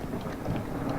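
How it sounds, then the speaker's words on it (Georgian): Rain and rumbling thunder in the video game Escape The Backrooms, a dense, steady storm wash with a low roll underneath and no voices. "წვიმისხმები არ მომწონს."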